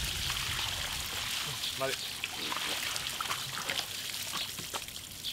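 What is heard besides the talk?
water pouring while rinsing the beef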